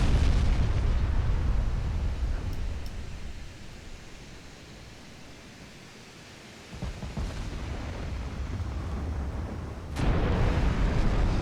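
Heavy booming blasts of battleship armor-piercing shells in a naval video game, a loud broad roar that dips and swells, with fresh impacts near seven and ten seconds.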